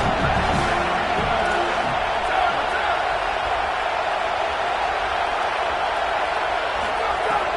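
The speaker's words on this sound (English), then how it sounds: "The crowd gets behind this defense." Stadium crowd at a college football game between Oregon and USC roars steadily behind the defense, a dense sustained wall of cheering with no pauses, and a commentator is faintly audible within it.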